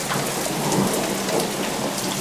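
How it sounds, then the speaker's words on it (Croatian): Heavy rain pounds down outdoors with hail and rumbling thunder, a dense, loud, steady roar of drops close by and no voices. "Led pada, ogromna je kiša."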